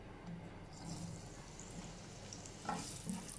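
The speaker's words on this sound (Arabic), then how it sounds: "هلأ هضيف البصل." Onions frying in a pan while Indomie noodles are made at home give a faint, steady sizzle with occasional stirring clinks, quiet and close.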